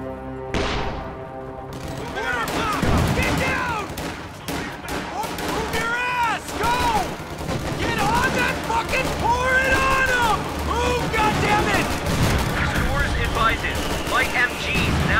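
Light machine gun fire in the video game Company of Heroes 2, with rattling bursts and repeated gunshots among booms and battlefield noise, while soldiers' voices shout over the fighting.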